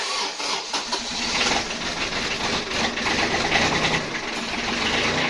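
A Kubota Aste A15 tractor's cold diesel engine turns over and catches, then runs with a loud, close, rough clatter and steady rhythmic knocking.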